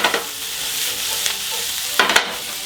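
Onions and peppers for sloppy joes sizzle steadily in a hot pan while a utensil stirs and turns them, with a few sharper scraping clacks.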